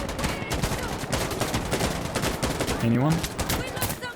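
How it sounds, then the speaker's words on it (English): Gunfire in the VR shooter Insurgency: Sandstorm, rapid dense bursts of shots and clatter filling the whole stretch, with a brief spoken word under the noise. "I literally could honestly pull out a gun like that, and I will be able to shoot them"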